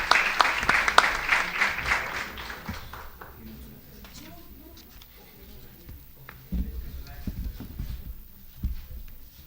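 An audience applauds a woman being welcomed to speak at a university pedagogy event: dense clapping for about three seconds that fades out, followed by quieter room noise and a few knocks.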